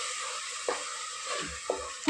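Onion and tomato paste frying in a pan for mutton paya gravy, a soft continuous sizzle with a few brief stirring scrapes, close and without talk.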